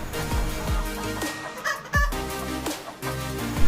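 Several short clucks from a chicken kept among plants near a schoolyard garden, each burst loud and close, repeating irregularly with brief pauses and no talking over them.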